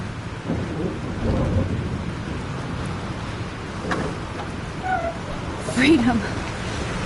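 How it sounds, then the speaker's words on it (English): Thunderstorm and rain in a video game, a steady wash of rainfall with low rolling rumbles and a few sharper cracks, plus a brief high cat-like cry near the end. "This storm is real."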